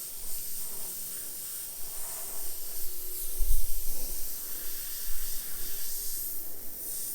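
An airbrush hisses softly and steadily, spraying paint onto a skull template, with a faint constant air noise and a few slight rubs and bumps up close.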